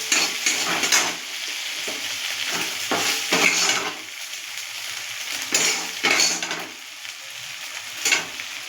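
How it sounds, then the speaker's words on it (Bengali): Crumbled egg stirred into oil-released fried masala for a jackfruit curry, with repeated scraping of a spatula against the pan in irregular strokes over a steady sizzle, close and fairly loud. "ডিমের ঝুড়োগুলো দিয়ে এবার এটা আমি নাড়াচাড়া দেবো"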